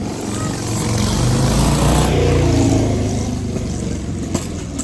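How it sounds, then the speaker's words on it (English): A motorbike passes near a home in the background, its engine noise loud and steady, swelling to a peak midway and then fading slightly, with no talk over it. "So, and now we've got a motorbike."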